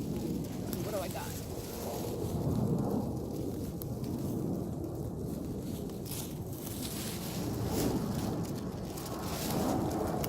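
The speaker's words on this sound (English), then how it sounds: "Oh God, now it's raining." Steady outdoor rain with low rumbling, likely distant thunder, during an unexpected downpour at a bushcraft shelter camp; continuous broadband wash at moderate level, with a voice briefly audible.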